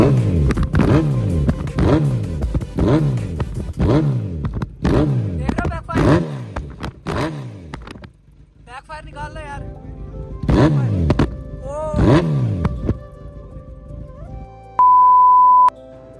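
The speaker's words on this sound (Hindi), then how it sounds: "अभी कोल्ड स्टार्ट हो चुकी है तो चलो इसको भी रेव करते हैं।" A superbike engine, freshly cold-started in a snowy setting, revs hard in a quick series of close, loud throttle blips with falling pitch, pauses, then revs twice more; an electronic beep sounds near the end.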